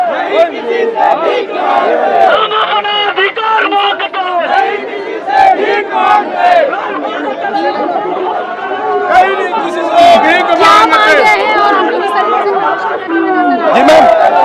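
A large crowd of protesters in Raipur shouts and chants together to save a pond from land grabbers, a loud, dense mass of overlapping voices with rising cries that continues steadily throughout.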